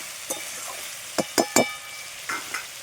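Bitter gourd, pumpkin and jackfruit seed curry is stirred and sautéed in a pan over a soft steady sizzle, with a handful of distinct spoon scrapes and clatters spaced irregularly.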